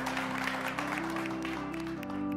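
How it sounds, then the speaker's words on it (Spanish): Studio audience applause for a contestant on a Spanish-language TV singing competition, a steady wash of clapping over a sustained tonal hum that runs throughout. "fuerte el aplauso para Alejandro"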